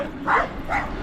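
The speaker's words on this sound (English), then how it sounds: "Dog chasing me." A dog chasing a cyclist on an evening ride on a Trek bike, giving two short barks close by, with a brief gap between them and road noise underneath.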